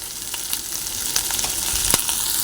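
Tomatoes frying in a pan while okra chutney is made, a loud continuous sizzle close by with a few sharp crackles and small stirring knocks.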